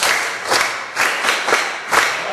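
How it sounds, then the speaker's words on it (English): A classroom of students in Kenya claps for a classmate in a science lesson, several quick rhythmic bursts of group clapping at close range, swelling and easing in waves about every half second. "Clap for him."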